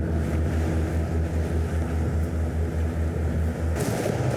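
Twin engines of a 2024 Greenline 45 Coupe motor yacht throttle up from slow cruising, a loud steady low drone with a pulsing throb, rushing wind and water noise around it and a brief splash near the end.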